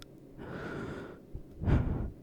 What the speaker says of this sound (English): Breathing on the mic.